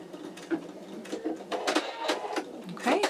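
A home embroidery machine stitches a placement line on an in-the-hoop wallet project with rapid, rhythmic mechanical clatter in uneven bursts, quiet and close, while a person talks.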